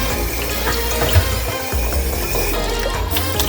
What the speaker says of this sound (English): I use faucet water because we boil this water